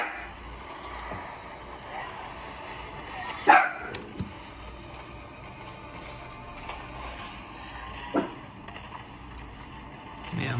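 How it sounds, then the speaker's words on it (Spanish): Ragnar, a dog in the video game Dauntless, lets out a single sharp bark over a low, steady game ambience, followed by a few quieter knocks and noises. "Pegó un ladrido."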